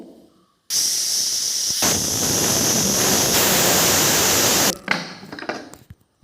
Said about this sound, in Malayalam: അപ്പോഴേക്കും ഇവിടെ ചായ തിളച്ച് തരുന്നുണ്ട്